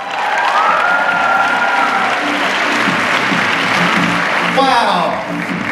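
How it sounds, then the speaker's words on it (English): A crowd claps continuously in sustained applause, with a voice speaking over it and a few cheers, at a cosplay contest. "Give a round of applause, guys."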